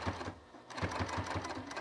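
A Juki TL15 sewing machine with a size 14 needle stitches through six layers of fabric, a rapid steady rhythmic chatter, close and alone after a brief pause.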